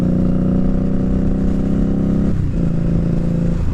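Steady, loud engine drone from an Indian Scout Bobber motorcycle, a deep rumbling idle that holds evenly throughout with a slight dip in pitch partway through, up close and without any talking.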